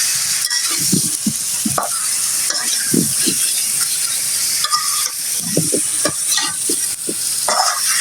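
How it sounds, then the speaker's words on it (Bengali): Potatoes are stirred and fried in spice masala for a village-style pangas fish and potato bhuna, giving a loud continuous sizzle broken by irregular spatula scrapes and knocks against the pan, without talk. "নেড়ে চেড়ে একটু কষিয়ে নিব।"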